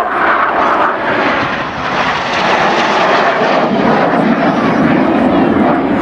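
Red Arrows jet aircraft flying a display at RNAS Yeovilton, a loud, continuous roaring engine rumble that swells slightly and then holds steady, close and unbroken, with no speech.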